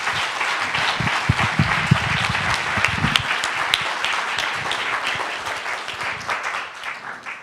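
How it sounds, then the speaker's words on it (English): An audience at an Ebola panel discussion gives a round of applause, with dense clapping that starts strong and slowly thins out toward the end. "Can we get a quick round of applause for Dean Hyman and the panelists, please?"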